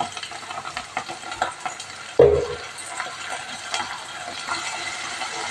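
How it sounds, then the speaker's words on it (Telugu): Soy sauce and tomato sauce are stirred together in a sizzling pan for chicken majestic. A spoon scrapes and clinks in irregular strokes over a steady, soft frying hiss, with one louder clack midway. "ఈ సాస్లని బాగా మిక్స్ చేసుకుందాం"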